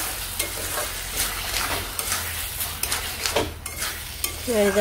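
Spice paste with green chillies sautéing in a pan for a fish-head muri ghonto curry, a steady close sizzle broken by scraping stirs, with a brief tonal clink near the end.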